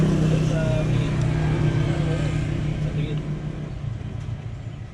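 A Yamaha Mio i 125 scooter with a TPS problem, its engine running at a steady low idle rumble, close by and slightly fading, with voices talking over it.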